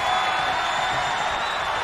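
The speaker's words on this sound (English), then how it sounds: "What a raucous crowd here tonight." A roaring arena crowd at a WWE 2K22 wrestling match in the video game, a steady loud wash of cheering that holds unbroken for the whole short stretch.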